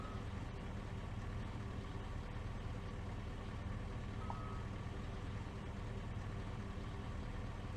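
A semi truck drives in Farming Simulator 22, its low engine drone steady and close throughout, with a faint short beep partway through and no voices.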